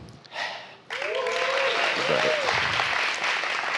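Audience applause at the Flup 2018 literary festival session celebrating the graduation of the Laboratório de Narrativas Negras: a quiet murmur, then clapping bursts in strongly and carries on steady and dense, with a brief voice rising over it.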